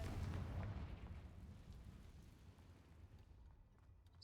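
A Confringo fire spell blasts in Hogwarts Legacy, a deep booming burst loudest at the start that rumbles and fades over several seconds.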